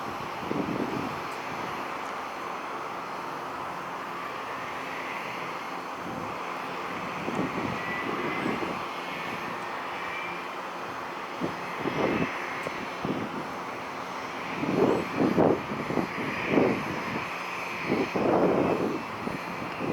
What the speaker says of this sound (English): United A319 heading out.